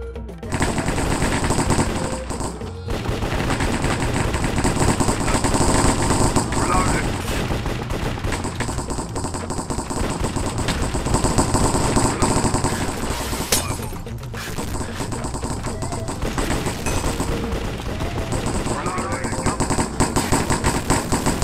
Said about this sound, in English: Today I've got our fully automatic AK-47.